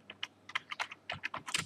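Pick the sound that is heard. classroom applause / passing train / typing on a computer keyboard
typing on a computer keyboard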